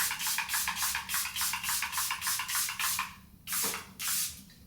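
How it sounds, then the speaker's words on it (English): Makeup setting spray misted over a face in a rapid run of about a dozen short, close hissing spritzes, then a brief pause and two more bursts, with no talking. "I'm going to take a setting spray"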